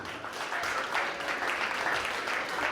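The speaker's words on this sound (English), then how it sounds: "Okay, clap your hand." Audience clapping at a community convention, a steady dense patter of many hands sustained throughout at moderate loudness, with no talk over it.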